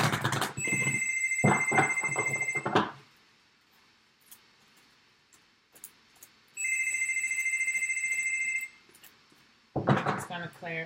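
A telephone rings with two long electronic trilling bursts separated by quiet, with talk around the first ring and again at the end.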